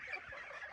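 A mother goose on a Russian goose farm gives a faint, low honking call, heard at a distance over a steady outdoor background.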